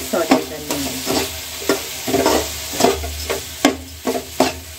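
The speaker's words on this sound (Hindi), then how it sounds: "इसे हम मसालों के साथ अच्छे से सॉटे कर लेंगे" Urad dal and spices are sautéed in a pan, with loud, close, repeated scraping strokes of a spoon over a steady sizzle. Each stir comes as a distinct rasping burst, and no one speaks.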